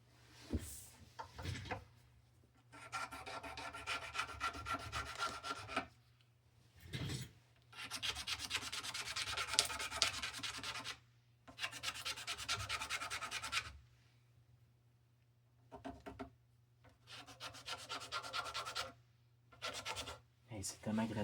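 Scraping on a classical guitar during setup work, close rasping strokes in several bursts of a few seconds each, separated by short pauses.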